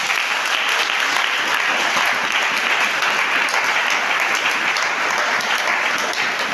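A church congregation clapping loudly and continuously to acclaim Jesus, a dense, even wash of applause with no pause from start to finish.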